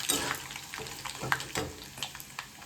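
Dry red chillies hit hot oil as a tempering for pulihora, a close, moderately quiet crackle and spitting with scattered pops and light stirring over a few seconds.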